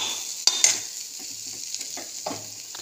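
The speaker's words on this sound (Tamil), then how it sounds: "ரெண்டு நிமிஷம் வதக்குங்க போதும்." Crab mixture sautéing in a pan for a crab omelette, a steady close sizzle and frying hiss with a couple of sharp clinks of a spoon stirring against the pan near the start, no talking.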